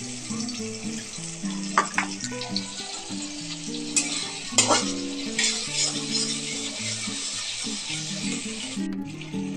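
Tomatoes and spices fry with freshly added ginger paste for a mixed vegetable and paneer dish, a steady sizzle with occasional stirring clinks under soft background music.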